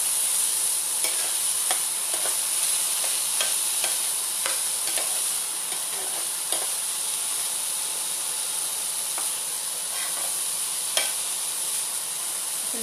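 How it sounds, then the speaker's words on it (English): Black beans sauteing in a hot pan give a continuous, fairly loud sizzle and hiss, with light scattered crackles and stirring ticks throughout and no talking. "I'm going to go in and add our black beans. We just let that saute up for a few minutes."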